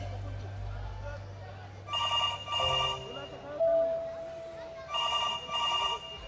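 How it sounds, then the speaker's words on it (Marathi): A telephone rings on an outgoing call during a Marathi stage play, giving two pairs of bright electronic ring bursts with pauses between them, and a low hum and a brief tone come between the rings. "जरा फोन लावून बघता का?"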